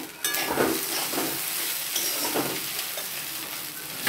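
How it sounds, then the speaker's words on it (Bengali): Rice noodles frying and being stirred in a hot pan, a steady crackling sizzle with scraping stir strokes at close range, no voices. "এবার এটা আমি একটু ভালো করে ফ্রাই করে নেব।"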